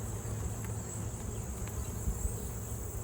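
Steady insect buzzing fills the air, a continuous close drone of honey bees around a hive with a constant high whine and no voices.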